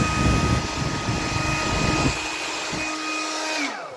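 A cheap hair dryer with very strong heating blows a steady broadband whoosh at close range, then clicks to a lower setting with a droning tone before winding down and stopping near the end; no one speaks.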